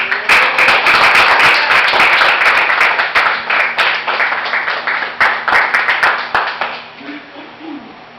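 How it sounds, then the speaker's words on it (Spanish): A church congregation breaks into loud, sustained applause and clapping for the Lord, dense and steady, then thinning toward the end as a voice murmurs beneath. "Ríndele un aplauso al Señor"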